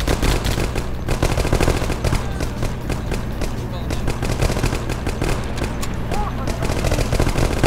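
Sustained automatic gunfire from the 9th Company: Roots of Terror video game, Bagram Airdrome mission, dense and loud with rapid bursts over continuous battle noise, faint talk mixed in.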